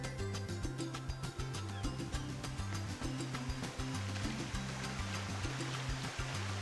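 The waterfall on Destiny Islands in Kingdom Hearts Final Mix, played on PS5, gives a constant rushing hiss of falling water under a looping, rhythmic game music track, both steady throughout with no speech.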